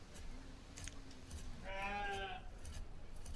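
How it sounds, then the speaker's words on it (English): A sheep in a village-building game bleats once in a short wavering cry, clear over faint background ambience. "Shut up, sheep."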